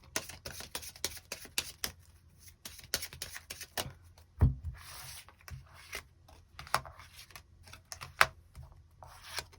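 Tarot cards being shuffled and drawn, with soft rapid riffles, rubs and taps of card stock arriving in irregular bursts close by and fairly quiet, with no talking.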